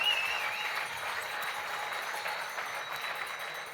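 An audience applauds Olympic medallists at a sports awards ceremony, with steady, moderately faint clapping that carries on evenly throughout.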